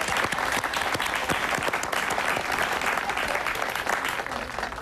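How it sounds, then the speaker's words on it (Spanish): Steady, dense applause from a studio audience at a Spanish-language talk show, loud and continuous throughout with no gaps. "Ave María, un aplauso para ella."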